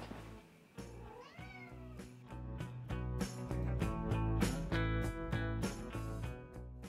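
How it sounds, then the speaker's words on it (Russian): A cat meows repeatedly and insistently up close, with drawn-out, rising and falling cries following one another in quick succession. "А что ты мяукаешь?"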